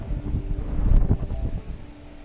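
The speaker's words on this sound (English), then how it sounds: "This wind really is making life awkward." Gusty wind on the bank of the River Trent at Fiskerton during a fishing match buffets the microphone with a loud, low, rumbling roar that swells in the middle and then eases off.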